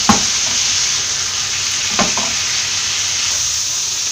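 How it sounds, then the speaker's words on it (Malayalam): Kerala-style jackfruit seeds stir-fry in a pan with a loud, steady sizzle. Two sharp scrapes of stirring stand out, and no one speaks. "ഇത് നന്നായിട്ട് മിക്സ് ചെയ്ത് ചെറുതായിട്ട് ഫ്രൈ ആക്കിയെടുക്കാം."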